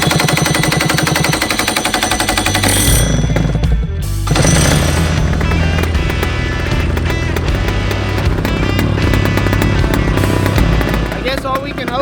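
A dirt-oval go-kart's small engine sputters, catches after a few seconds and keeps running with a loud, rapid, rattling buzz close by.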